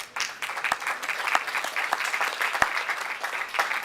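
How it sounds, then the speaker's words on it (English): Audience at a Rotary club program applauds the founding of two new Interact clubs, a dense, even spread of clapping with a few louder single claps, sustained for several seconds. "you need to give yourselves a round of applause for your two new clubs"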